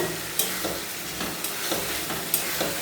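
Potato and ridge gourd curry (jhinge aloo) with poppy seed and chilli paste and a little water sizzles steadily in a pan while a spoon stirs it, with scraping clicks at irregular intervals close up.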